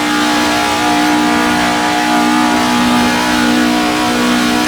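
A racing car from historic Formula 1 racing on the Pescara circuit in Assetto Corsa, its engine holding a loud, steady high-revving drone as it accelerates flat out, harmonic whine constant throughout with no voices.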